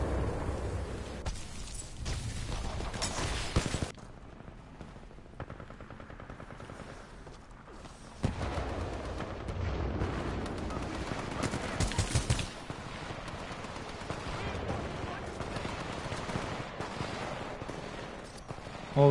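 Gunfire in a video game, including semi-automatic weapons: dense, loud bursts of shots and booms that come in waves, with brief quieter gaps between volleys.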